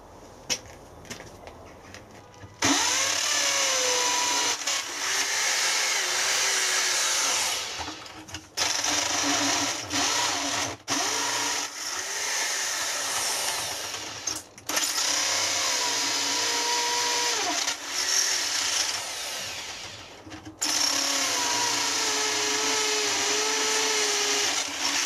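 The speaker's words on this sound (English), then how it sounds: "So I'm going to try drilling some holes around here, see if I can weaken it." A power drill whines in long, loud bursts separated by short pauses, grinding steadily into hard cement on a casting furnace with no talking.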